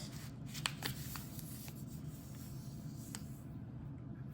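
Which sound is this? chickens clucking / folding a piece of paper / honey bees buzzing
folding a piece of paper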